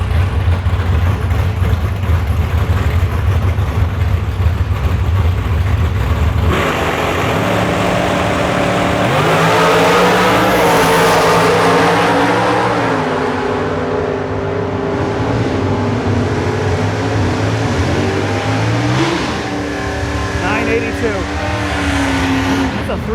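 A 327 super stock drag car at Beech Bend launches and accelerates hard, a loud roaring engine sweeping up in pitch across the run, with a commentator talking over it.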